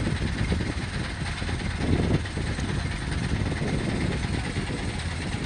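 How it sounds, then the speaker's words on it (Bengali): A trawler's engine runs steadily near the Sundarbans in Bangladesh, a continuous low mechanical drone that stays loud and even throughout with no speech over it. "এদিকে আমরা এই যে এখন ট্রলারে আছি।"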